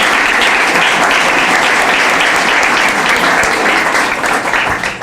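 A gala crowd at the Windsor Shad Derby claps for a group of young ladies, a loud, full round of applause that holds steady and thins slightly at the very end.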